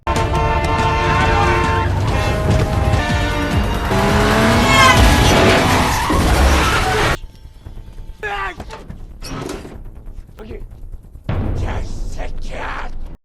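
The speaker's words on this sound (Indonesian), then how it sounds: "Mobil Kang Kyung berhasil dikepung dan ditabrak, tapi ia masih bisa kabur dengan berlari." A car in a Korean gangster film is chased, boxed in and rammed, with engine roar, tire squeals and crunching impacts, then quieter scuffling and footsteps after the crash, under a narrating voice.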